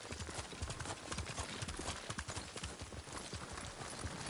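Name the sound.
horse hooves while riding in Ghost of Tsushima video game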